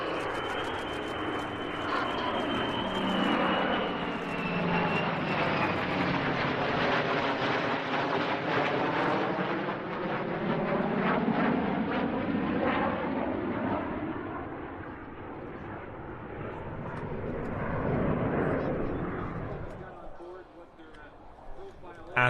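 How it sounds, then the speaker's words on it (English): F-35 demo jets and a trio of P-51 Mustangs arriving at the AirVenture air show: a loud, broad jet roar that sweeps past and shifts in pitch, then fades over about twenty seconds, with talk partly over it. "We start with the arrival of the F-35 demo team, along with a trio of Mustangs used by the Heritage Flight Foundation."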